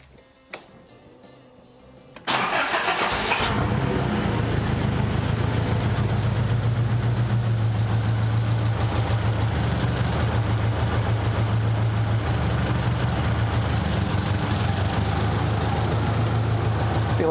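A Nissan 200SX engine cranks briefly and catches, then settles into a steady, loud, slightly rough idle that runs on unbroken at close range in a garage.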